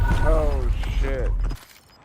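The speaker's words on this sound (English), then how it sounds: "Changing mags." A weapon magazine reload in Call of Duty Black Ops 6: close mechanical clicks and ratcheting clacks under a brief voice, ending abruptly in near quiet.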